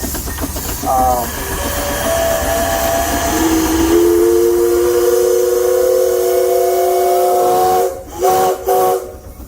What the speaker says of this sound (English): Now that was quite a whistle. That was loud.